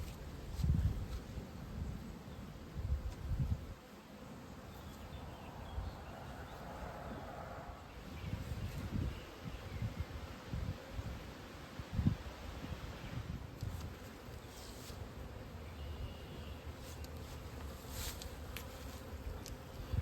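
A caught honeybee swarm building up in a hive drones with a steady, close insect buzz throughout, with faint rustling and soft handling noises beneath.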